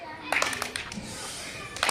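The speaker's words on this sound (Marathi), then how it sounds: "कोणती टाळी घ्यायची आहे सांगा रॉकेट टाळी चला" Children in a classroom do a rocket clap, a quick run of sharp claps that speeds up and ends in a short burst, with young voices heard alongside.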